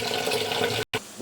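Municipal tap water pours steadily in a home kitchen while rice is washed, a continuous close splashing rush with a brief break near the end.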